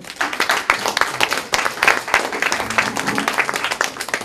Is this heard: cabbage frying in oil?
no